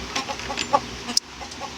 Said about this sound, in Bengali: ওদের কাছে আসা যায় না, ওদের কাছে আসলে ওরা চিৎকার করে।